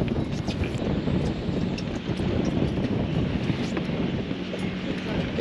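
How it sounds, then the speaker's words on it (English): Wind rushes steadily across a fishing boat out on the water during a tog fishing tournament off Rhode Island, a constant loud roar of buffeting wind noise with faint wave wash underneath. "Did say that wind was gonna pick up."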